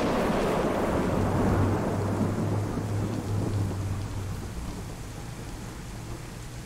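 Steady heavy rain falling in the DayZ video game on the Chiemsee map, a dense continuous wash with a low rumbling undertone like distant thunder, loud and unbroken with no voices.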